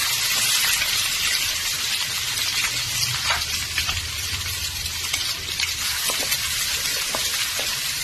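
Thinly sliced onions and green chilies fry in hot oil with chana dal in a pan for a cabbage carrot stir-fry, a steady dense sizzle throughout with occasional faint stirring clicks and no talk.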